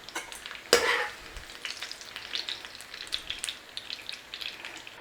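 Onions frying in leftover bacon fat in a pan, with a sharp burst of sizzle as they go in. A crackling, rain-like fry follows, with soft stirring scrapes and no talk.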